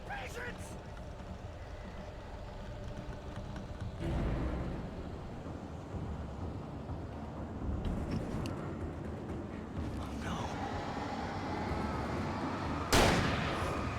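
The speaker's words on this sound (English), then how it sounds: "This seems like a time for a shotgun." Shotgun in the Alan Wake video game, a few heavy blasts spaced several seconds apart over a dense rumbling game soundscape, one sharp shot near the end.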